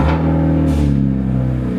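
A car with its engine cover removed and a missing valve cover gasket starts up and settles into a steady, loud idle rumble close by, brief and without talk.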